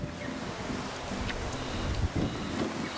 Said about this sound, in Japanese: かなり強い風が吹いてきました。